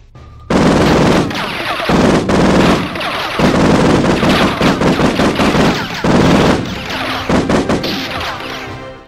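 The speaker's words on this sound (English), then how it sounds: "Okay, machine gun here." Loud, sustained machine gun fire from the video game Army Men: Sarge's Heroes, with long continuous rattling bursts and brief gaps between them, in the foreground with no voices.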